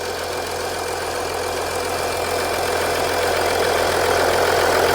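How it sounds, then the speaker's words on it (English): An Audi Q7 3.0L engine idles steadily up close after a valve cover gasket repair, a continuous even hum and rumble at constant loudness throughout. "So now I'm gonna turn off the engine so we can wrap up this video."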